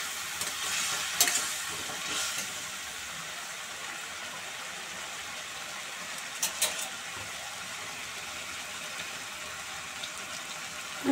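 Spice paste cooking down in a pan after a splash of hot boiled water, for a Bengali cabbage kofta curry; a steady soft sizzle and bubbling hiss runs throughout, with a few brief scraping stirs near the start and middle.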